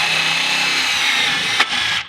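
Power tool driving a bolt home while fitting big Audi brakes onto a Mk7 Golf Alltrack, a steady close whir for about two seconds with a brief sharp spike near the end before it stops.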